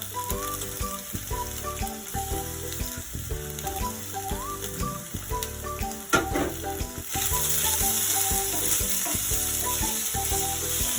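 Idli batter with a tempering sautéed in oil in a pan, a steady close sizzle broken by rhythmic scraping and clattering stirring strokes, with the frying growing louder toward the end and no voices.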